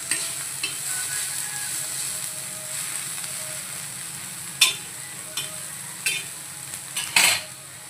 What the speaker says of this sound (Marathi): आता इकडे आपल्याला कांदा छान असा परतून घ्यायचा आहे।